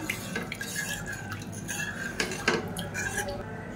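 Horse gram powder stirred into water in a pressure cooker pot, with a utensil scraping and clinking against the metal, light watery swishes and a few sharper knocks at a steady pace.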